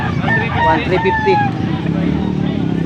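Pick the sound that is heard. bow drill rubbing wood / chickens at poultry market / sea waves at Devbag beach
chickens at poultry market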